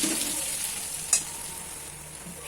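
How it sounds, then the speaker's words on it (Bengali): Spice paste with red chilli powder frying in a pan for an ilish fish head and ash gourd ghonto, a soft steady sizzle with a single scrape of stirring partway through, close and fairly quiet. "একটু নাড়াচাড়া করে নেব। মশলাটা একটু ভালোভাবে কষে নেব।"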